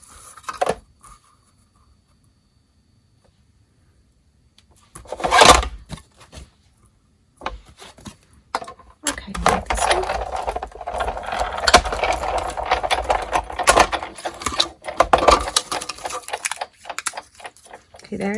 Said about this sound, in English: Now we're going to cut out this greeting.